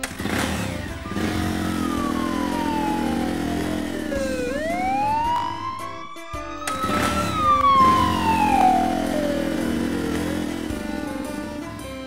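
A toy fire department rescue bike sounds its siren, a loud wail that glides down and back up, cuts out briefly, then sweeps up and down again, with no talking.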